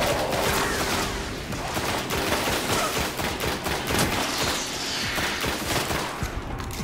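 Dense gunfire fills a firefight in the video game Destiny, rapid overlapping shots forming a continuous loud crackle with little pause.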